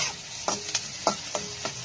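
Carrot and vegetables frying lightly in a pan for white sauce pasta, stirred with about five sharp utensil scrapes spaced evenly over a soft background sizzle, close and moderately loud, no voices.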